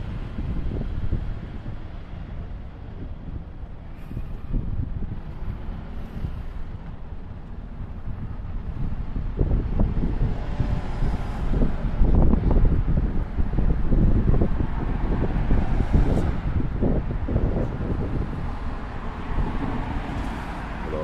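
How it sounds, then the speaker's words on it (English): Strong outdoor wind buffets the microphone with continuous low rumbling roar and gusty surges, loudest in the middle and later stretches. "The wind is absolutely terrible today."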